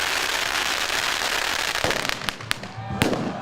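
Firecrackers crackle loudly at a Lunar New Year celebration with lion and dragon dances, a dense hissing stream broken by several sharp, close bangs toward the end.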